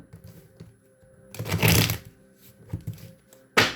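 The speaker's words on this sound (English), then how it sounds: "I'm going to shuffle these up." Tarot cards are shuffled up close in quick riffling bursts, one long rustling riffle in the middle followed by lighter taps and a final sharp shuffle.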